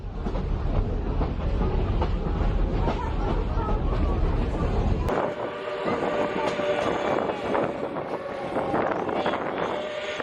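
Steady rumbling roar of a train drawn by a steam engine, heard from a moving car with heavy wind noise; the low rumble drops away partway through, leaving lighter rattling and clatter.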